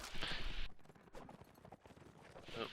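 Horse hooves clattering in a cavalry battle in a video game, bursts of galloping clip-clop under a busy battle din, rising at the start and again near the end.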